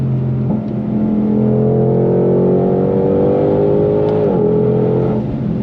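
A Ford Shelby GT500 Mustang (S550) muscle car engine revs hard on throttle, a loud, steady, deep roar that climbs in pitch, holds, then dips briefly before rising again, heard close and alone.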